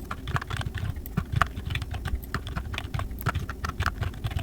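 Typing on a computer keyboard while writing HTML table code, a fast, continuous stream of close, crisp key clicks in an uneven rhythm.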